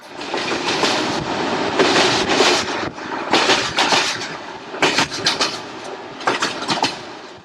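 Bulgarian passenger train rolling along worn track, a loud, close rumble with bursts of rattling and rhythmic clickety-clack wheel beats over rail joints.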